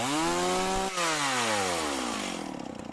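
A Stihl 028 chainsaw engine, running too rich on the low-speed setting, revs loudly and then winds down steadily as it drops back toward idle, its pitch falling over a few seconds, close and alone.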